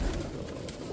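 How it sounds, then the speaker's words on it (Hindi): Border Line pigeons at a loft in Jammu give a low, soft cooing that runs steadily through the whole second, near and fairly quiet with no talk. "एक और कबूतर देखना चाहूँगा"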